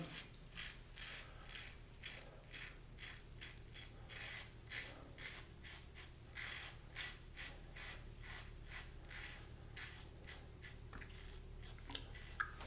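A safety razor shaves stubble from a sideburn and down the face, giving a steady run of short, close, rhythmic scraping strokes with no talking.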